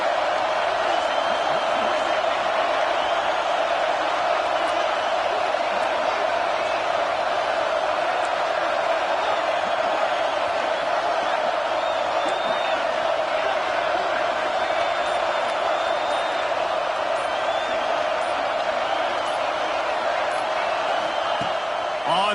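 A stadium crowd in the college football video game College Football 26 keeps up a steady, loud roar that swells as a broad wash of noise for the whole stretch, with no clear breaks.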